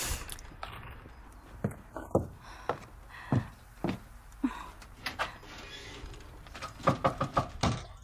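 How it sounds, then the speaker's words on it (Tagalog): Repeated knocking on a door in a horror film, a series of sharp separate raps spread over several seconds, clustering faster toward the end, with no talk. "Marge, buksan mo yung pinto."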